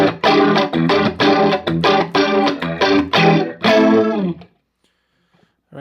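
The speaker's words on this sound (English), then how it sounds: "Bring the rate up high enough, and it starts to sound a lot like a Leslie." Electric guitar played through the Electric Mistress flanger on an EHX Epitome pedal, rate turned high for a swirling, Leslie-like sweep; loud strummed chords ring for about four seconds, then cut off into silence.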